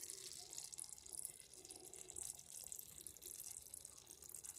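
Water runs from a tap in a home kitchen during cooking, a faint, steady hiss and trickle with small splashes, continuous throughout with no talking.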